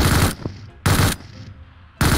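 An MG3 machine gun fires in PUBG Mobile in three loud, rapid bursts separated by short pauses, each pause carrying a fading echoing tail, with no talking.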